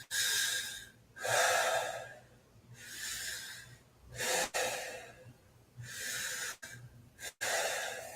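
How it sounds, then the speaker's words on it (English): Wim Hof style deep balloon breathing, a steady series of loud, close breaths with long rushing inhales and exhales repeating in a regular rhythm, with no talking. "Breathing easy, deeply in, let it go."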